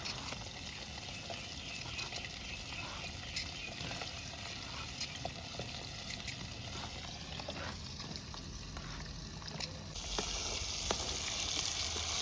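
Hilsa and other river fish fry in oil over a village clay stove, a continuous dense sizzle and crackle that grows slightly louder and brighter near the end, with no talking.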